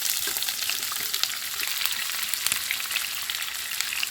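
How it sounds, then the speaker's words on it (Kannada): Onions frying in oil in a pan for lemon rice give a dense, even sizzle close by, with faint spoon scrapes and crackles through it and no talk. "ಇದನ್ನು ನಾನು ಸ್ವಲ್ಪ ಫ್ರೈ ಮಾಡ್ಕೊತಾ ಇದ್ದೀನಿ. ಇದೊಂದು ಸ್ವಲ್ಪ ಫ್ರೈ ಆಗ್ತಾ ಬಂತು. ಇದಕ್ಕೆ ನಾನೀಗ ಈರುಳ್ಳಿನ ಹಾಕ್ಕೊಳ್ತಾ ಇದ್ದೀನಿ."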